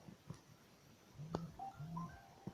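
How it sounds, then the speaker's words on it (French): A mobile phone gives off a short electronic notification, a few bright tonal beeps and chirps near and clear, with faint background sounds and no talk. "c'est sur le portable, il a sonné"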